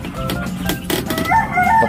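Broiler chickens in a cage on a small Filipino poultry farm, continuous overlapping clucks and squawks up close, a dense flock chorus with brief louder calls, no talking.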